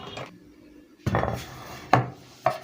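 A greased metal muffin pan is handled and set down on a counter, giving a soft scrape followed by two sharp, close knocks of metal on a hard surface.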